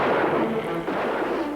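A gunshot in the film I Was a Teenage Werewolf, a booming, reverberant blast with a second report partway through, loud over a dense, muffled background.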